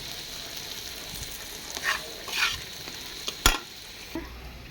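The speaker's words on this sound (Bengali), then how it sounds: "তো আমার পেঁয়াজ ভাজা হয়ে গেছে, আমি এখন বেগুন দিয়ে দিচ্ছি।" Onions frying in a pan with a soft continuous sizzle, broken by a few louder scraping stirs of a spatula.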